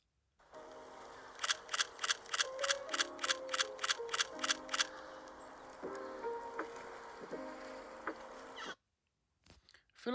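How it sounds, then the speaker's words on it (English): A camera shutter sound effect being placed in a LumaFusion video edit: about a dozen crisp, evenly spaced shutter clicks fire in quick succession over quiet background music, which then carries on alone. "I feel like the shutter sound is too loud now."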